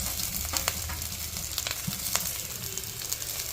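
Onions and tomatoes fry in hot oil with green chillies for a mealmaker and mushroom curry, giving a steady close hiss with a few sharp pops and crackles throughout.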